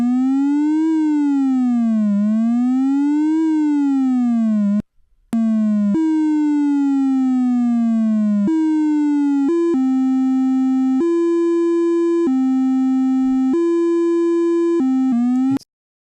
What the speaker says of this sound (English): The sound is produced when the LFO is connected to the synthesizer's oscillator. This will create a pitch variation dependent upon settings.